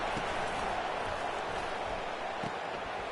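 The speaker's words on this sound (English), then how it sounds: "This crowd bringing the energy and noise early." Stadium crowd noise from the NCAA 25 college football video game, a steady broad roar at moderate level with a couple of faint thumps, no clear talk on top.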